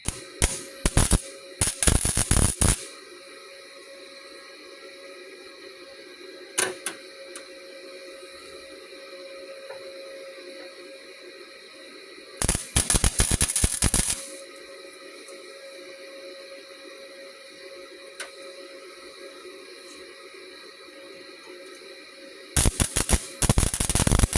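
Flux core welding on sheet metal during rust repair comes in three loud bursts of harsh crackling and spitting. Each burst lasts a few seconds and is separated by quieter stretches of low hum.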